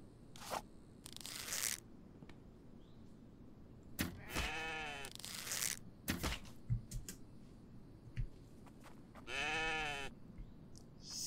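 A goat bleating in the survival game Infected, heard as several separate wavering, quavering cries spaced apart, fairly close and clear, with short clicks and faint background sound between them and no talking.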